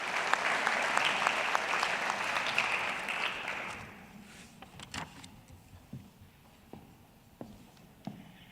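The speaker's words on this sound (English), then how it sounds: "A huge round of applause for you guys." Audience applause at a school scholars awards ceremony: dense clapping that fills the hall for about four seconds, then thins out into scattered, quieter claps and shuffling.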